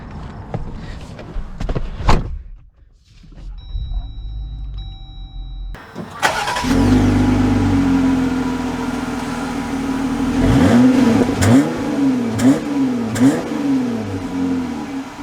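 A 2022 Jeep Gladiator Willys engine cranks and fires up after a quiet moment, settles into a steady idle, then revs and pulls away as the truck drives off, loud and close throughout.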